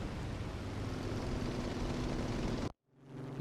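A slow Firefly airplane in a video game, its engine a dense, loud, steady drone that cuts out abruptly near the end and then returns more quietly.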